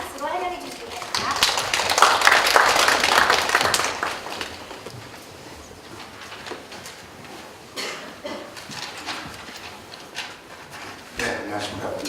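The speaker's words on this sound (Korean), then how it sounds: "큰 박수로 환영해 주시기 바랍니다." An audience at a rehabilitation riding conference's opening ceremony breaks into a dense burst of clapping that swells and then fades over a few seconds. Scattered claps and speech follow.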